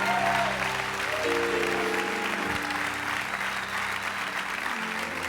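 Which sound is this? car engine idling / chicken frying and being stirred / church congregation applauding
church congregation applauding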